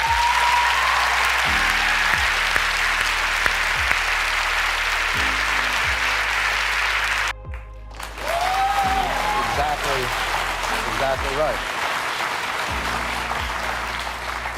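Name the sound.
audience applause during Malala interview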